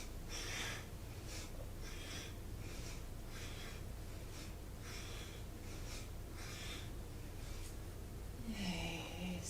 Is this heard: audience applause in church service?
no